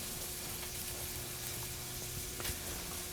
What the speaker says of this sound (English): I'm going to do that while my meat, the pancetta, is cooking.